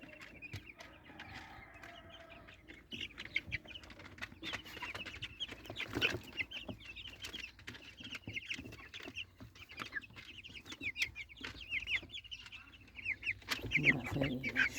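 Free-range village chickens out in the sun cluck steadily through the whole stretch, several birds nearby with scattered louder calls over a constant low outdoor background.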